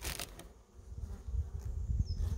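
Honeybees buzzing around an open beehive being readied for winter, a low continuous hum with faint flickering wingbeats nearby, quiet and brief with no talk.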